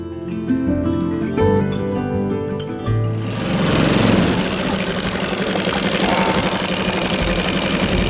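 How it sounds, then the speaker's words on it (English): A small outboard motor on a trailer sailer boat at Buckler's Hard runs steadily at close range, a continuous buzzing drone that swells after a brief quieter start and holds an even, busy rhythm. "the outboard was well ready for a little bit more fuel"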